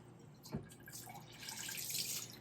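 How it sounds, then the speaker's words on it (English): Warm water running from a bathroom tap onto a cloth being dampened, a soft steady splashing trickle with a brief drip-like knock early on, close and fairly quiet with no talking. "So I'm just gonna dampen a cloth with warm water and just wipe it off"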